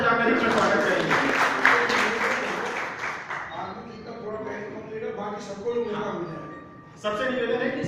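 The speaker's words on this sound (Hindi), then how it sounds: "सब जोरदार तालियां बजाकर इनका स्वागत करेंगे" Audience applause at a trade association meeting greeting a speaker called to the stage, bursts of clapping that fade and return, mixed with voices talking over it.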